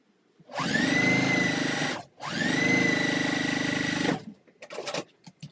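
A sewing machine stitches long quilt seams in two steady whirring runs of about one and a half seconds each, close and loud, with a short pause between them and light clicking and handling afterward.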